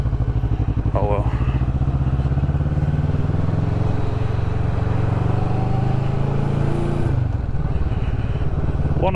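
Kawasaki Vulcan 650S motorcycle being ridden, its engine a loud, steady throbbing drone close to the microphone, with a brief revving change and a voice talking over it.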